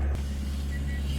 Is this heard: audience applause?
no